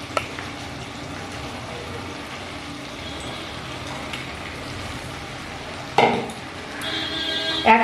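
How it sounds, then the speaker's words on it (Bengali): Soybeans stir-fried with spices and sugar in a pan for a soybean masala curry give a steady, close sizzle and frying hiss throughout, with a louder clatter of utensil against pan near the end. "একই সাথে মশলার সাথে একটু কষিয়ে নিচ্ছি সয়াবিনগুলো।"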